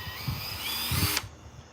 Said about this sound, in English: There's so much power in this drill.